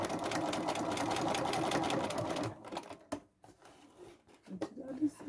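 A sewing machine runs in a loud, fast, continuous burst while zigzag stitching on an upcycled bag, then stops, leaving quieter handling noises and someone speaking.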